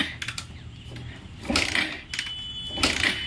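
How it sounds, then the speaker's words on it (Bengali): Repeated kick-start attempts on a Bajaj Pulsar motorcycle that will not start, a few clattering mechanical strokes with metallic rattles and clicks, no engine catching, fairly quiet and close. "তবুও কিন্তু আমাদের বাইকটা এখন পর্যন্ত 2-4 কিক মারার পরেও স্টার্ট নিচ্ছে না"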